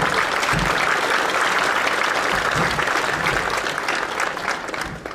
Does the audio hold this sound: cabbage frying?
no